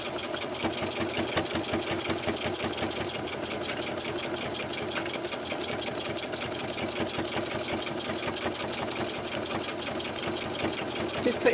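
Sewing machine straight stitching on scrap fabric for a fabric landscape piece: a fast, even mechanical rattle running steadily and loudly from start to finish, close up, with no talk.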